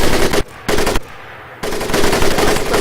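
M1919 .30 caliber machine gun firing in the Pacific Assault WWII shooter, loud sustained bursts broken by two short pauses, close and dense with no voices.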